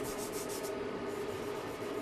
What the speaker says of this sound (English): that's how smooth the wet sanding makes it